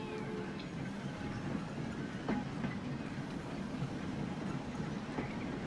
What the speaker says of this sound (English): A good view of the trains coming in.